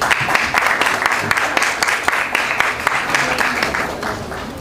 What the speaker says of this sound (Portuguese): a mesa totalmente feminina, os nossos aplausos, por gentileza